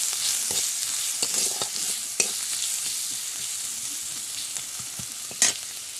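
Pumpkin stems sizzle steadily in a pan with salt and a little turmeric, while a utensil stirs and scrapes with sharp clicks, a louder clack near the middle and another near the end.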